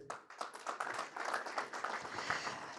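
Audience clapping at an economic forum in Marrakech as panel guests are introduced; a modest, fairly faint round of hand claps, irregular and steady for a few seconds, with no speech over it.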